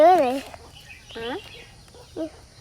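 A few short chicken clucks and squawks close by, spaced out with brief pauses between them.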